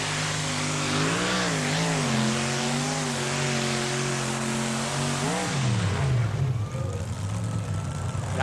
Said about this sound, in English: he has that magic 572 cubic inch engine